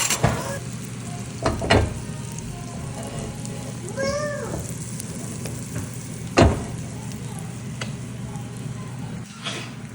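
A ramen omelet sizzles and fries steadily in a half tablespoon of butter in a pan, with a few sharp clinks of the spatula or pan and a faint bubbling sweep partway through.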